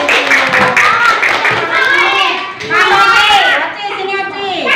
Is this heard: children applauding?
yes